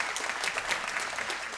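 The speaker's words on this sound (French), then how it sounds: "Un tonnerre d'applaudissements pour eux" Dense, steady applause fills a comedy show hall, many hands clapping together at close range with no voices over it.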